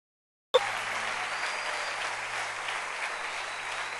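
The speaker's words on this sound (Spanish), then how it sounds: "Fuerte tu aplauso al Rey." A church congregation in a Spanish-language service breaks into applause after half a second of silence, a sudden burst of many hands clapping that holds steady and fairly full through to the end.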